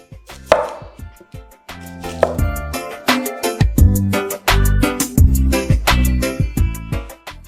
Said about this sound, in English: I'm going to cut my onion.